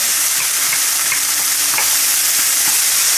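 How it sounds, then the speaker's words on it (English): Curry chicken spices and onions sizzle loudly in a hot pan, a constant close frying hiss broken by light scrapes and knocks of stirring, with no talk. "We're going to continue to burn the shit out of everything that's in the pan."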